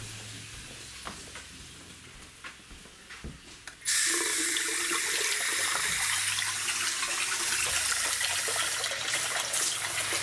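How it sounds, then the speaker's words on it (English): Household cold-water taps and a shower are opened full in a home with a replaced water line, starting with faint drips and clicks, then a sudden loud, steady hiss of rushing water that continues to the end. "I'm going to turn all of them on cold, and then I'm going to flush a toilet also."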